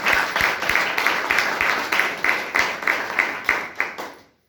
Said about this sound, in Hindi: एक बार इनके लिए चाहूँगा मैं जोरदार ताली।